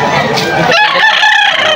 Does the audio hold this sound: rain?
no